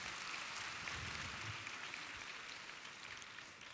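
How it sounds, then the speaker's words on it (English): An audience at an awards ceremony claps for a nominee, a dense, continuous roar of many hands that holds steady and eases off slightly toward the end. "A round of applause for him"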